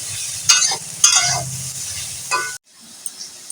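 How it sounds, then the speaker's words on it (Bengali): Soybean chunks fry in a pan for a soy, potato and egg dish, with a steady sizzle broken by a few louder stirring scrapes, then the sound cuts out and a faint, quiet tail follows. "সয়াবিনটা অনেকক্ষণ ধরে ভালো করে একটু ভেজে নিতে হবে"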